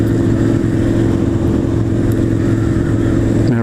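A motorcycle engine drones steadily and loudly at a constant pitch while riding on the road, with a brief change in tone at the very end as it shifts down a gear.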